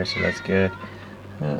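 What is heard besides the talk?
cat meowing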